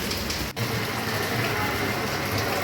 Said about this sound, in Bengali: আমাদের কুমিল্লা প্রচুর বৃষ্টি পড়ছে